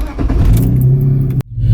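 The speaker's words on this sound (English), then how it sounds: "I'm gonna turn the car on." BMW E46 wagon engine cranking and catching, a short loud burst from inside the car that cuts off abruptly, then resumes as the engine settles.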